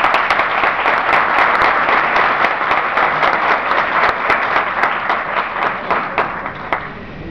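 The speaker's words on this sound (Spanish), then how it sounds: "Te dejo con Jesús Callejo, un aplauso," Sustained applause fills the hall as a congress audience welcomes speaker Jesús Callejo, dense and even clapping that stays loud throughout and eases slightly near the end.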